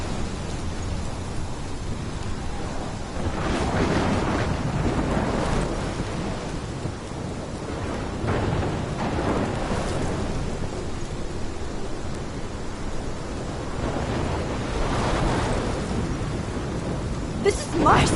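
A storm in Life is Strange, with heavy rain hissing steadily throughout and several deep thunder rumbles rolling in and swelling at intervals, loud and enveloping, with no voices.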